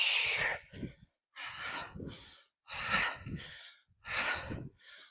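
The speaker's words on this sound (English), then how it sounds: "I hope you can hear how hard I'm breathing over here." Hard, rhythmic breathing during a high-intensity interval workout, with four loud bursts of panting exhales separated by short pauses, heard close up with no talk over it.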